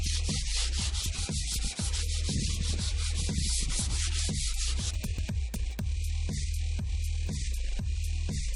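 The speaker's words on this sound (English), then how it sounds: "next up, sanding, which I will do outdoors" Close, continuous sanding of wooden window parts outdoors, with rhythmic rasping back-and-forth strokes, loud and gritty throughout, no voices.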